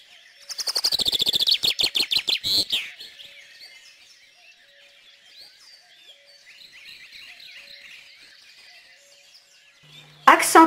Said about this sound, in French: Pinson des arbres.